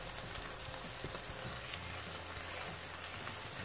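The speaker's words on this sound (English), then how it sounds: "we're going to let that flour kind of cook out" Butter and flour roux cooks in a pan with a soft, steady sizzle that stays even throughout. The sizzle is faint and close, with no talking.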